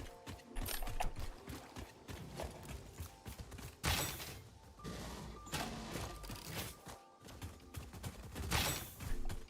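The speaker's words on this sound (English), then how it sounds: "These guys can shoot." Enemy gunfire rattles in bursts through a video game fight, fairly quiet overall, with mechanical clicks and scattered shots mixed into a busy game soundscape.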